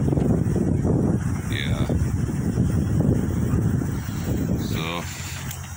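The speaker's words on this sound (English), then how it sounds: "It's really being hit with wind on." Strong wind batters a tent at a campsite, a loud continuous roar buffeting the microphone with gusts throughout, and someone says a brief word near the end.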